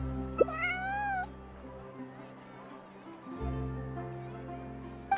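A cute cat meows once in the video game Genshin Impact during a quiet hangout scene with soft background music. The meow is short and rising, clear and close.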